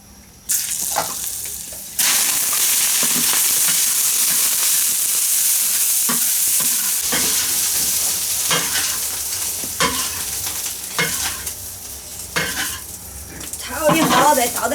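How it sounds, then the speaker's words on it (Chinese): Rice stir-fried in a pan, with a loud continuous sizzle, close at hand, and repeated scraping and clatter of a utensil against the pan as it is tossed. "这个米起来炒一下。"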